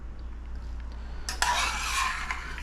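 Pasta is stirred into a pan with pancetta, a soft scraping and clinking of utensil against the pan that starts midway and stays quiet and close, with no talking.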